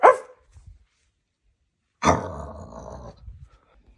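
Dogs bark during a thunderstorm in Swan Hill. A sharp single bark opens, then after a pause a longer growling bark follows, with faint yips after it. The barks are loud and near.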